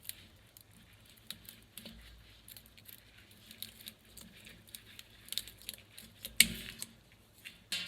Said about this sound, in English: So let's cut off all the dead roots.